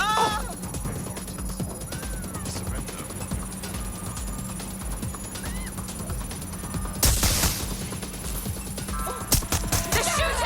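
Scattered gunfire in Watch Dogs Legion amid busy game ambience, with faint intermittent shots under a constant background din and a louder crashing burst of shots late on, plus brief vocal cries.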